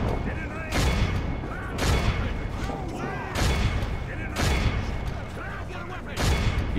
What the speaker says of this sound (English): Oh, with the catapult shot.